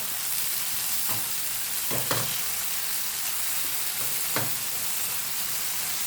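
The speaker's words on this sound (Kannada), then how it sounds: "ಆಯಿಲಲ್ಲೂ ಡೀಪ್ ಫ್ರೈ ಮಾಡ್ಕೋಬೋದು, ಆದರೆ ನಾನು ತವಾ ಫ್ರೈ ಮಾಡೋಣ ಅಂತ ಮಾಡ್ತಾಯಿದ್ದೀನಿ." Methi tandoori chicken pieces tawa-frying in a pan, a steady close sizzle broken by a few soft clinks and scrapes of stirring, with no talking.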